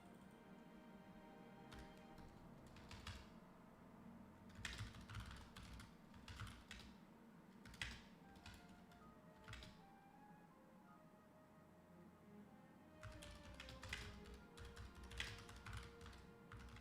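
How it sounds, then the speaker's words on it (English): Clicky computer keyboard typing during an esports match, bursts of rapid keystrokes alternating with short pauses over a steady background hum, close and moderately loud. "I'm just typing some advice to the teammate."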